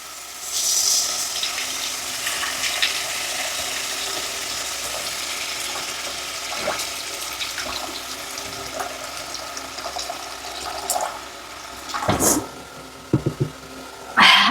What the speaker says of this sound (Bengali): এখন আমি দিয়ে দেবো পরিমাণ মতো জল।